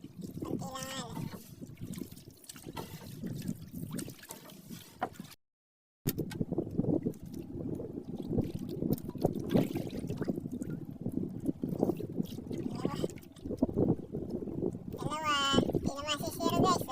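Choppy sea washing and slapping around a small fishing boat while catching bisugo, irregular splashes and water movement close by, with a voice talking over it and a brief dropout partway through.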